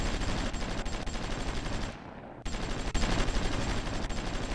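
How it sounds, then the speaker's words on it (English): Dense, continuous gunfire and explosive artillery barrages from the strategy game Supreme Ruler Ultimate, loud and sustained, with a brief drop into quiet before the barrage resumes. "the artillery is giving some fire support now"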